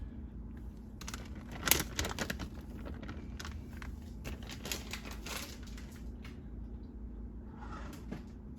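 Aluminum foil crinkles and rustles as it is pressed over a baking dish of baked ziti, a busy run of close crackling bursts over a steady low kitchen hum, then quieter handling near the end.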